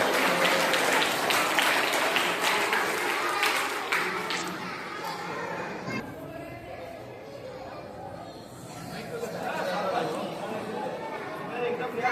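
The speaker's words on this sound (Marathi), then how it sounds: "जोरदार टाळ्या" Crowd of schoolchildren and adults clapping and chattering at a school annual prize-giving ceremony, a sustained noisy wash of applause and voices that thins out midway, then swells again.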